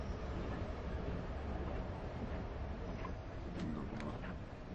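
A suspended monorail train runs in the Schwebebahn-Simulator 2013 PC game, giving a steady, moderately loud rolling rumble with faint squeaks near the end and no speech.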